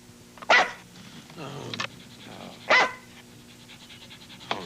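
A dog barks in a 1981 TV commercial for Coast deodorant soap: two loud, sharp barks set well apart, with quieter short yips and a growl-like sound between them, no talk over them.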